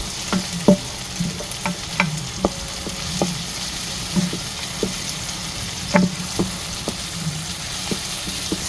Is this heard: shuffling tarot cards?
no